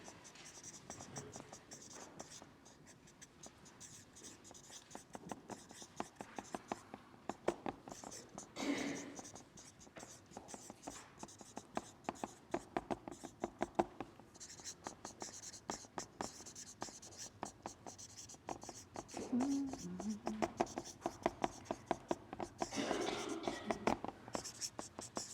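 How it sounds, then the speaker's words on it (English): Audience members write with pens on paper at a talk, a faint, steady scratching and tapping of pen strokes that continues throughout, with soft room murmur and occasional whisper-like rustle. "So just write it down."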